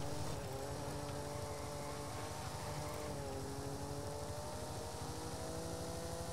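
Helicopter in the racing game Forza Horizon 5, a steady low droning rotor and engine hum with tonal harmonics that holds at a constant level throughout.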